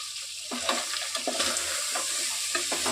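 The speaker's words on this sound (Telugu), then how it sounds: "మిరపొడి వేసిన తర్వాత బాగా కలుపుకోండి" Village-style country chicken curry with red chili powder in oil being stirred in a pot, a close, continuous sizzle broken by repeated scraping strokes of the spoon.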